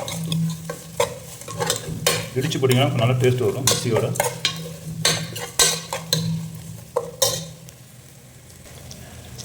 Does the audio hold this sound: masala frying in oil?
yes